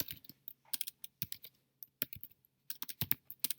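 Close fingers typing on a computer keyboard in quick, irregular bursts of clicky keystrokes, with brief pauses between runs and no talking.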